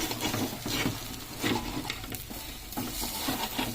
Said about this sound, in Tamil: ஆம்லேட்டு பெரட்டி போடுவோம்.